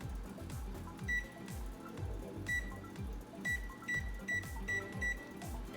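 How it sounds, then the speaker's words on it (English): An oven timer is being set, its buttons giving repeated short electronic beeps in an uneven series, heard close and fairly clear over a low rhythmic background. "So next we're gonna put the oven timer at 1 hour and 5 minutes."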